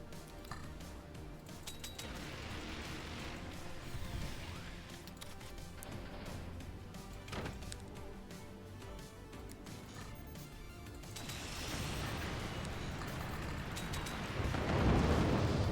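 Missiles launching and detonating in the strategy game Forts, heard as a continuous rumbling, crackling barrage with scattered impacts that swell into a loud, heavy blast at the end.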